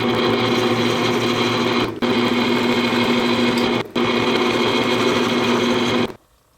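Power drill boring a 3/8 inch hole through a dowel drilling jig: a loud, steady high-pitched whine held for about six seconds with two brief dips, then stopping.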